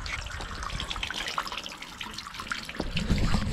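Water running steadily into a float-valve livestock water trough on an Australian farm, a continuous splashing gush with small trickles and drips, close and moderately loud.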